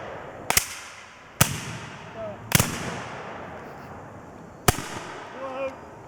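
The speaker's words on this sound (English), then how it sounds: "Fire by file from the right. Ready. Commence fire." Muskets fired by file at a Civil War reenactment weekend at Long Pond Ironworks: four sharp, loud reports spaced irregularly over several seconds, each with a short echoing decay and a faint murmur between shots.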